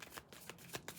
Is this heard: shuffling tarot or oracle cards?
yes